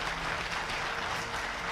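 Audience applause at a Modicare business opportunity meeting, a steady dense wash of clapping that holds at an even level for the whole short stretch, with no voices over it.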